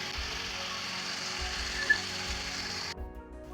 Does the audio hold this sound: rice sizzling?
yes